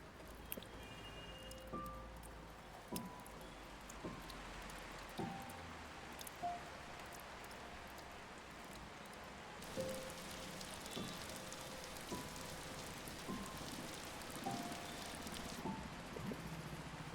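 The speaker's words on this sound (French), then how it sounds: "Oh, il pleut." Steady rain patters softly on a surface, with scattered drips and taps standing out against the even background hiss.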